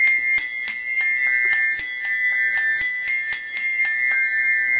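Handbells rung four-in-hand, a steady run of bright ringing strikes in quick succession, each tone ringing over the next and forming a shimmering, sustained cascade of chimes close by.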